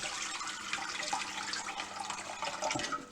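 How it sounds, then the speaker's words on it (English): Filtered water pours steadily into a cooking pot for a saag chicken noodle dish, a close, continuous splashing hiss lasting a few seconds with no talking. "I'm just going to put some filtered water in there."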